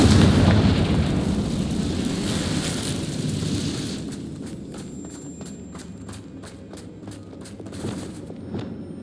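A Confringo fire spell blasts in Hogwarts Legacy as a loud, rumbling explosion, followed by a rapid series of sharp crackling pops and debris bursts that fade out.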